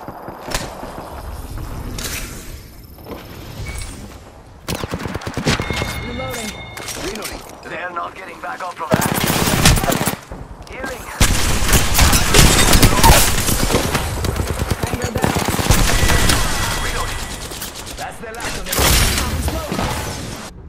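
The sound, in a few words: gunfire in the video game Apex Legends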